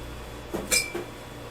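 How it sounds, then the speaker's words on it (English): Metal spoon scooping bacon fat into a pan on an induction burner, a few brief clinks and light scrapes close by, with one brighter ring in the middle, over a quiet steady hum. "we're going to take a spoon and grab a little bit of bacon fat"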